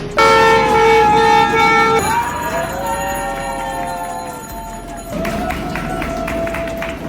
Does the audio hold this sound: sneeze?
no